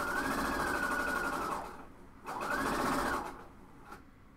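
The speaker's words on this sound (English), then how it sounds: "You're going to overstitch this right here." A sewing machine overstitches the armhole of a cowl neck tank top in two steady running bursts, the second starting after a brief pause, close and fairly loud with no talk.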